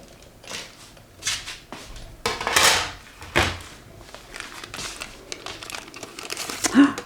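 An embossing machine pressing and crinkling paper for a tipped-in window pocket journal flip-out, giving crisp crumpling and rustling bursts with a few clunks, close and moderately loud, with no talking.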